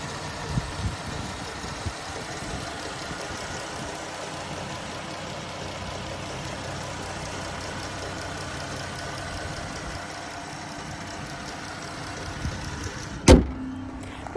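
A 2022 Dodge Charger SXT with 85K miles idles steadily, a low, even engine hum that holds without revving, with a sharp click near the end.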